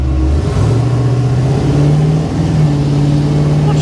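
A 1956 Chevy engine revving loudly and up close, its steady rumble rising and dropping in pitch as it shifts through gears, running continuously with no talk.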